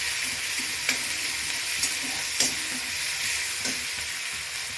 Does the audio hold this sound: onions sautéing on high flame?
yes